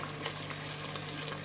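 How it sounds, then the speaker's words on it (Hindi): Spices for aloo gobi, including red chilli, coriander powder, turmeric and salt, sizzle and fry in hot oil, giving a steady close crackle with no voices. "मसाले को अच्छी तरह से भून लेंगे।"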